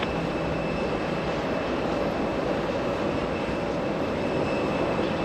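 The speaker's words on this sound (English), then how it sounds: "CRJ 900 heading to Savannah, Georgia. Operated by Endeavor Air this afternoon." Steady, loud roar of an Endeavor Air CRJ 900 regional jet at JFK International Airport, a broad continuous engine rumble holding level throughout with no pauses.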